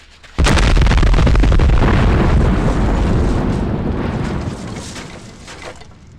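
A bomb blast in The X-Files video game, one sudden loud boom that sets off a long roaring rumble, which slowly fades over several seconds.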